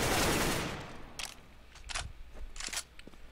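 An AK rifle fires in the game CS:GO. A loud opening burst is followed by several short, sharp shots at uneven intervals, with quiet gaps between them.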